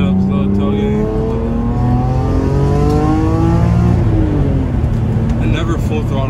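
A BMW E46 M3 engine revs and pulls hard under acceleration, its rising harmonic note climbing steadily and loud throughout while a voice talks over it.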